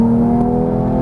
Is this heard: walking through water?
no